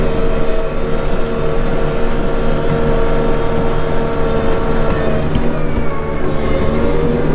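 A Bobcat Toolcat utility vehicle drives along a trail, its engine making a steady, loud drone with a constant low hum. Faint rattles from the ride sit over the drone.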